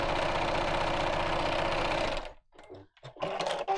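Sewing machine quilting simple square patterns into a project, a loud steady run of rapid stitching that stops abruptly, followed by a few short uneven bursts as the needle restarts and stops.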